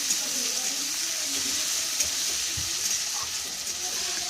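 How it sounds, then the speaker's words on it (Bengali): Boiled potato and carrot stirred in a pan for a rice-and-sago pilaf, a steady sizzle with soft scraping running throughout, close and even, with no talking. "তো চলো এটা একটু নাড়াচাড়া করে নিই।"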